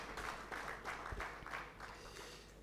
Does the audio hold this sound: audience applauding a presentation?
yes